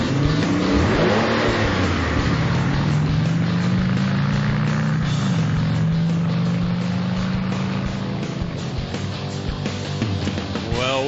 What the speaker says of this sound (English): Sounds like someone's got the pedal down.